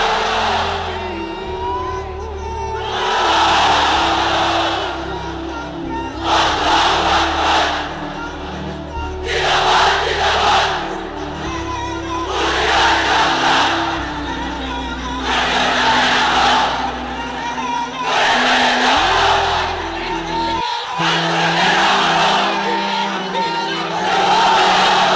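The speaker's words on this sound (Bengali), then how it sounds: "এক একটা তাকবীরে যাতে এই প্যান্ডেল কেঁপে ওঠে" A large crowd in a pandal roars the takbir slogan in repeated loud swelling bursts with short pauses between them, answering a leader's calls over a PA system.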